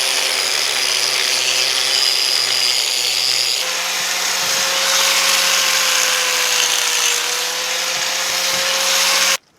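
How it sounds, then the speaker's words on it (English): Power tools whir and buzz steadily while car brake calipers and rotors are removed at the rear wheels, a loud continuous motor drone shifting pitch midway, ending in a brief clunk. "we're gonna be taking off the calipers and the rotors"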